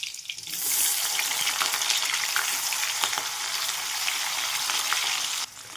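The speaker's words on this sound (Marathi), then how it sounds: "लसणाच्या पाकळ्या आणि कांदा टाकून घ्यायचा त्यासोबतच" Garlic cloves and onion hit hot oil with bloomed cumin seeds, bursting into a loud, dense, close sizzle that holds steady and then drops off abruptly near the end.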